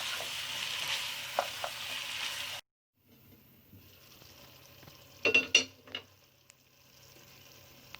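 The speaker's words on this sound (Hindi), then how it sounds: "करेले डाल दिए, अच्छी तरह मिक्स करेंगे" Bitter gourd and meat with onion being stirred in a pot over low heat: a soft background sizzle, a brief gap, then a quick cluster of spoon scrapes and clanks, close up, with no voices.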